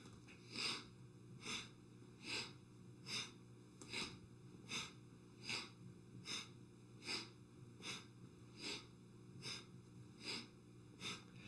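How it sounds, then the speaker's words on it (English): Rhythmic sniffing breaths during a kundalini yoga practice, about fourteen sharp nasal inhales in a steady even pulse, close and fairly quiet, with no talking. "The breath is like a catch and sniff."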